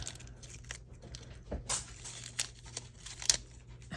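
A Halloween craft is unwrapped up close, with soft crinkling and light tearing of wrapping and a few sharper crackles scattered across the moment.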